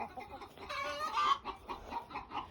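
Backyard chickens raise an alarm at danger, with a flurry of rapid, agitated clucks and a few higher squawks close by, rising to a louder burst midway.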